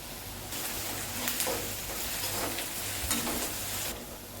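Steady crackling sizzle of salted onions frying in a pan over high heat, with brief scraping stir sounds rising and falling throughout, fairly quiet and close.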